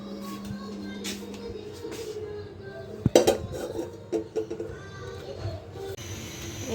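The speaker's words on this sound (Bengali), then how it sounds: "আর এখন ভাত বসাবো রাতের জন্য।" Pot and utensils clink in a home kitchen as rice is put on to cook for dinner, a few sharp metallic knocks and scrapes clustered midway over steady room noise, with a voice faintly nearby.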